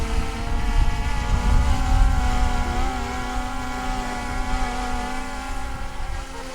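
A DJI Mavic Air 2S drone lifting off in wind, its steady high-pitched propeller whine holding close and loud throughout, with gusty low rumble from wind on the mic.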